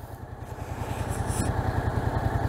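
A motorcycle engine runs at a low, pulsing idle-like throb while the rider turns slowly on the clutch during an A2 licence riding test. The engine is close and steady, rising slightly, with no talking.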